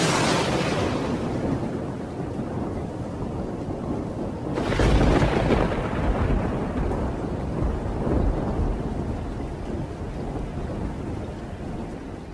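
A thunderstorm with rain: heavy, steady rainfall hisses throughout while a deep rumble of thunder rolls in near the middle and slowly fades, loud and close with no voices.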